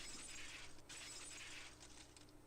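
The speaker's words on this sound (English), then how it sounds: "The unpleasant, piercing sound of shattered glass" Glass shatters in a scene from the game Higurashi, a bright crunching burst followed by scattered tinkling shards, faint and fairly close, with no talk.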